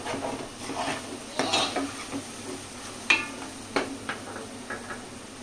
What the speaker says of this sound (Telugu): కారం అనేది పచ్చి వాసన పోయేదాకా నాకు తిప్పుతూ ఉండండి